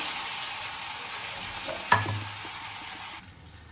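Pounded garlic and coriander drop into hot oil with a sudden loud sizzle, then fry with a steady crackle, with no voices over it.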